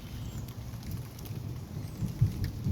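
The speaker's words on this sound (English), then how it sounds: "And here comes the rain." Rain begins falling on a garden by a potted patio Bonanza peach tree, a soft steady broadband patter with low rumbling undertone, faint and even throughout.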